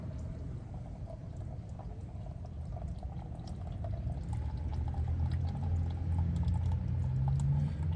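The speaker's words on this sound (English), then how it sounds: "We'll let that just ooze and trickle and dribble." Engine oil drains out of a Fiat 450, a faint steady trickle and pour of liquid that grows slightly louder and fuller toward the end, with no talking.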